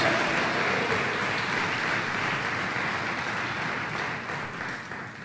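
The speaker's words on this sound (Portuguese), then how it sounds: "Quantos podem aplaudir ao Senhor?" A church congregation claps together after a call to praise the Lord, a steady broadband patter that holds for several seconds and fades slightly toward the end, with no voices over it.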